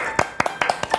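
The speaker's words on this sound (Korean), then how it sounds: "박수." A few separate handclaps at a Korean restaurant tasting, about four quick bursts spaced evenly through one second, close and moderately loud, with no talk over them.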